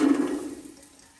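A little oil pours into a pan in a brief liquid gush that starts loud and trails off within about a second, heard alone.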